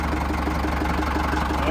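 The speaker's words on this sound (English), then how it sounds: "Idle back down." Ford 5000 diesel tractor engine settling back to idle, a steady low rumbling drone with a constant knocking pulse, close and continuous throughout.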